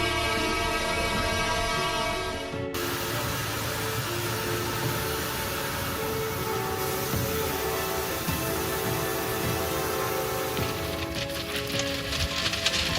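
A train rolling to a halt on the tracks while a big herd of bison crosses, heard as a steady mechanical rumble with rail noise and a sharp change partway through, continuous and fairly loud with no voices.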